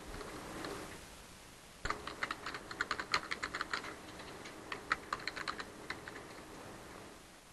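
Computer keyboard typing of an application description, a quick irregular run of light clicking keystrokes close by over a soft background hiss, with no voices.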